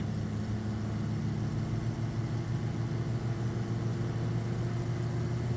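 A Simca 1100 car engine drones steadily at 80 km/h, a continuous close, loud, rough hum with strong low harmonics and no talking.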